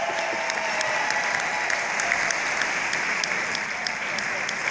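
A live oldies concert audience applauds a performer with steady, dense clapping that carries evenly through the moment, sounding full and close with no talk over it.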